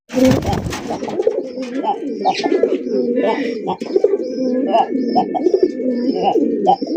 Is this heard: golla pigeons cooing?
yes